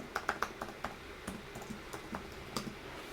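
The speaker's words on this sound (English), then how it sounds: "I need to type my password again" Password being typed on a computer keyboard: a quick run of light, crisp keystrokes at first, then sparser single taps, close and quiet in a still room.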